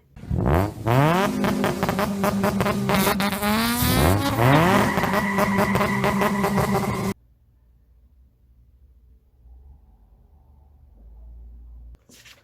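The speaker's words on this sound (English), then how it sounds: "I created my own RX-8 with all the stuff I have unlocked so far" A customized Mazda RX-8 in the racing game Need for Speed Underground 2 revs hard with rising gear-shift whines and screeching tire skids for about seven seconds, loud and close, then cuts to near silence.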